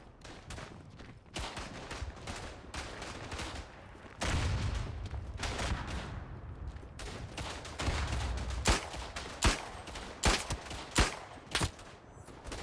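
Gunfire in the World War I shooter game Verdun, with sharp rifle and machine-gun shots cracking in irregular bursts over a rumbling battlefield backdrop, some shots close and loud, others more distant.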